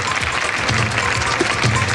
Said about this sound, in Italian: E dico, un applauso.